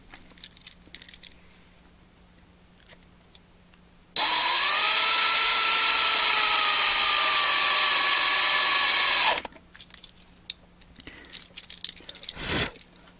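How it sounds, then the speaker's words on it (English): A loud, steady drill whine runs for about five seconds, cutting through plastic with a constant high motor pitch, surrounded by quiet handling noises. "if I drill all the way through and I don't leave like a platform on this plastic side"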